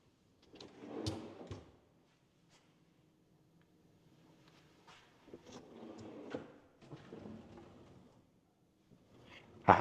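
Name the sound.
kitchen drawers being opened and closed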